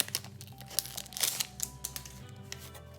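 Pokémon Astres Radieux booster packs are torn open, with close crinkling foil and quick tearing rips in irregular bursts, quiet and without talk.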